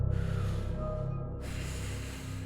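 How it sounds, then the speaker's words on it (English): Heavy, hissing, snorting breaths of a demon, close and rasping, drawn in and out with a low rumbling undertone. "The sound of the demon's breathing was all that Kharn could hear."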